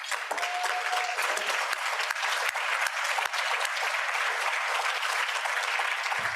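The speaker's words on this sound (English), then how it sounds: "That deserves applause." At a Rotary club meeting, a roomful of people applauds with dense, sustained clapping that holds a steady, fairly loud level from start to finish, with no speech over it.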